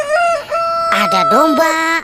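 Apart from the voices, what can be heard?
rooster crowing from toy animal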